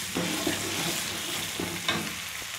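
Asafoetida, chili powder and turmeric stirred in hot oil for a gooseberry pickle, a close, steady sizzle with light spoon scrapes and occasional clinks against the pan.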